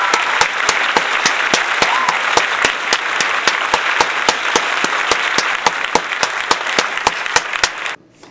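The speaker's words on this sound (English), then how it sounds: "Everyone clap." Applause during a League of Legends gameplay stream: a steady wash of clapping with sharp, evenly spaced beats in unison that continue for about eight seconds, then stop abruptly.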